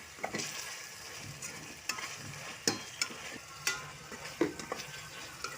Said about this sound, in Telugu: బాగా మిక్స్ చేయండి అంతా కలిసేలాగా